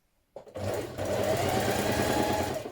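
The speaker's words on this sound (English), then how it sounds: "do a line of gathering stitching on the top and the bottom between the circles" A sewing machine starts up and runs steadily, stitching a gathering line across fabric for a McCall's 7978 gathered top; a rapid, even mechanical whir, close and loud, with no talk.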